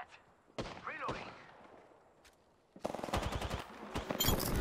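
Gunfire in an Apex Legends match starts with a few scattered shots, then turns into a rapid automatic burst, loud and close. The first part is quieter, with faint game sounds between the shots.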